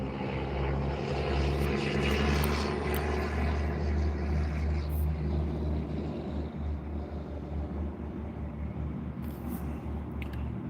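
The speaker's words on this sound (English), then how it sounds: "Damn, that truck's loud." A loud truck rumbles past nearby, a heavy, broad roar that swells in the first few seconds and then slowly fades over about ten seconds, with no talking.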